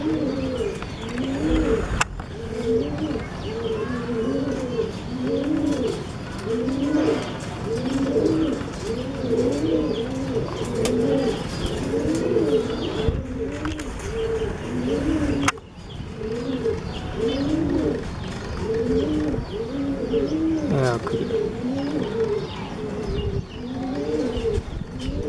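A pair of pigeons, a newly matched male and female, coo continuously in a soft, rhythmic rolling pattern, close and steady throughout with no talking.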